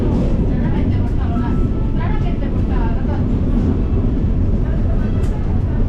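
A train runs at a railway station platform in Naples, Italy, a steady low rumble and hiss filling the space while people talk nearby.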